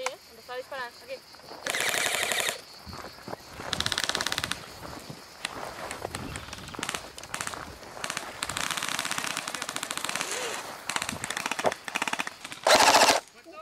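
Rapid bursts of airsoft gunfire rattle out at intervals during an outdoor skirmish, some loud and close, others fainter, with players calling out between and over the shots.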